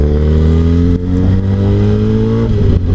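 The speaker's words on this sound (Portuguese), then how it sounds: "Você acelerando agora aqui." A motorcycle accelerates hard on a Japanese expressway. The loud, close engine rises steadily in pitch with a brief shift near one second and again near two and a half seconds, with no talk.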